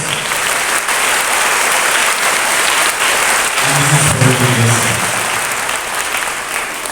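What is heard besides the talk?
audience applause at investiture ceremony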